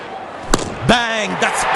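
A sharp cricket bat crack on the ball, struck for a six in an Afghanistan versus Ireland one-day match, lands as a single loud knock amid crowd noise, with a commentator's voice.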